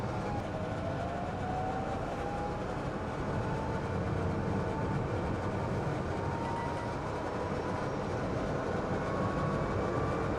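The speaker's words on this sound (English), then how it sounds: "If I switch the fan on, it's quite noisy." Cabin fan running inside a moving 2022 UK-spec Citroen Ami Electric, a loud, steady broadband whoosh blended with road and cabin rumble, continuous throughout with no talking.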